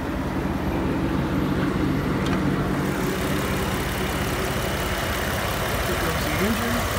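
A 2007 Jeep Wrangler Unlimited Rubicon 4x4 engine idles with the hood open: a steady, even close-up hum with a fine ticking rhythm that runs without break.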